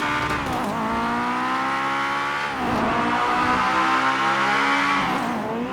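An Acura RSX Type-S racing in GTA 5 gives off a loud, continuous engine growl, its VTEC pitch climbing through the revs, dipping at two gear shifts and climbing again, with a hint of tire noise.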